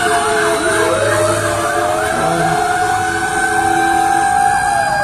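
A wailing fire truck siren sweeps up and down continuously, loud and close, as fire engines pass by during a fire in Las Piñas City, with a low engine rumble underneath and no talking.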